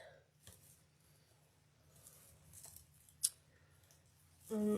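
Scissors give a single crisp snip cutting through a pipe cleaner for a wreath, quiet indoor surroundings with faint handling noise before and after.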